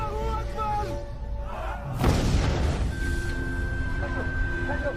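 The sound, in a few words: explosion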